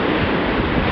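Steady roar of sea surf breaking along a shore where the water is only knee deep, loud and continuous like a close wash of waves with wind across the microphone.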